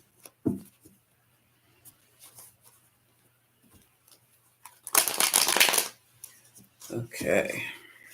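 Tarot cards being shuffled in two quick riffling bursts after a stretch of near silence with faint handling noises.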